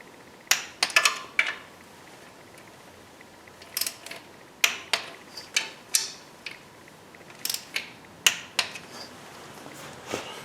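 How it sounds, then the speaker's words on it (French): A ratcheting torque wrench tightens the serpentine belt tensioner on a 2010 Cadillac CTS to 25 Nm, producing a string of quiet, close metallic clicks in small irregular bursts. "Coupe de serrage du tendeur de serpentine, 25 Nm."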